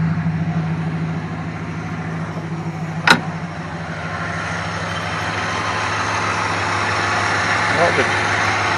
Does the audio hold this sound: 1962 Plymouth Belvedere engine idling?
yes